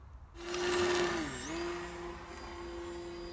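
An RC model airplane's electric motor on a DGA-6 during a test flight, a steady close whine that dips briefly in pitch and then settles back into an even drone.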